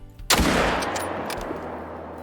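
A hunting rifle fires a single loud, sharp crack at a whitetail buck in Call of the Wild, followed by a long rolling echo that fades slowly.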